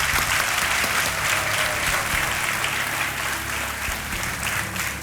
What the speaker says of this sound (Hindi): तालियां बज जाए मनीष जी के लिए।